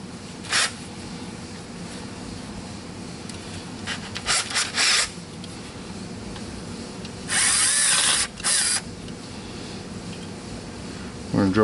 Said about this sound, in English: we're going to take a drill and we're going to drill 2 small holes